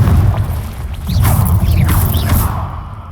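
A Confringo fire spell blasts in Hogwarts Legacy inside a cave, a loud, deep boom with whooshing rumble that swells and fades over a few seconds.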